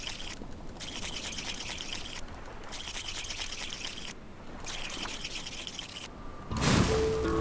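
A fire igniter is rubbed to start a fire in Stranded Deep: repeated scratchy rubbing strokes in bursts over steady ambient noise, ending in a louder flare as the fire catches.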